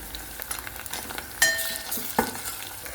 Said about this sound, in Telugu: అల్లం వెల్లుల్లి పేస్ట్ వేగేటప్పుడు మంచి స్మెల్ వస్తుందండి